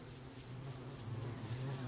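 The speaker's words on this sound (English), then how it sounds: "The bees are trying to kill me, oh god." Bees in the video game Don't Starve Together buzz steadily, a faint droning hum with a low whir that continues throughout.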